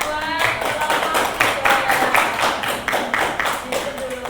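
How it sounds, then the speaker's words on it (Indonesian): Classroom applause for a presenting group, a burst of rhythmic clapping from a small group with voices mixed in, fairly close and lively. "tepuk tangan buat kelompok"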